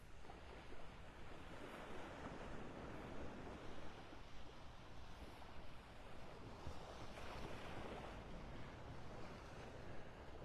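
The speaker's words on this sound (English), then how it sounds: "A few little waves here lapping on the shore." Small waves lap on the shore at Vanderbilt Beach in North Naples, Florida, early in the morning after a storm, a faint continuous wash mixed with wind noise, without talk.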